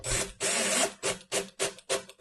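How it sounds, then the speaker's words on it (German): Screws being tightened on a Sela CaSela quick assembly kit, heard as a series of close, rasping bursts of turning that come in uneven strokes with brief pauses between them, with no talking. "Und ziehen die Schrauben an."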